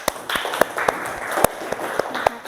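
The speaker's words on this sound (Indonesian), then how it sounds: "Kita beri aplaus untuk kelompok" Brief round of classroom applause for group 1, a sparse scattering of individual claps from a small group of students, fairly near and moderately loud, with no talk over it.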